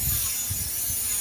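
Lubricant sprayed from an aerosol can onto a pistol magazine, a continuous loud hissing spray lasting about a second, close up and alone.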